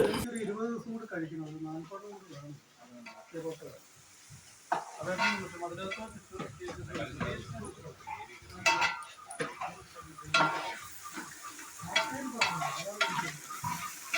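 Onions fry with tomato and curry leaves in a pan while a spoon stirs them. A soft sizzle sits under frequent scraping strokes, with people chatting nearby throughout.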